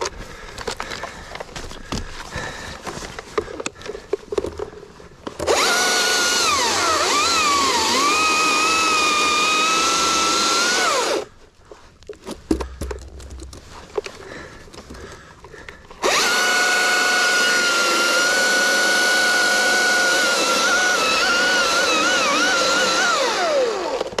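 Chainsaw making a brake cut in a dead oak: two long, loud, steady bursts of cutting, the engine pitch sagging and recovering under load, separated by a short pause of quieter idling and rustle.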